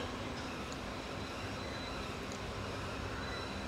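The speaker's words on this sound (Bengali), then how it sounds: "আমাদের train on time Puducherry station থেকে ঠিক 5টা 35-এ ছেড়ে" PDY MS Express train rolling out of Puducherry station, a steady, even rumble of the carriage with broadband rail noise throughout and no talk, heard from inside the moving train.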